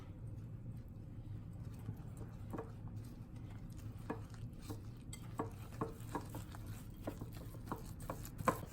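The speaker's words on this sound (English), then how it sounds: "let's start mixing everything" Egg whites being mixed into dry ingredients for low-carb keto "corn" tortilla dough: a soft, steady stirring with a run of regular light taps and clicks against the bowl, fairly quiet and close, with no talking.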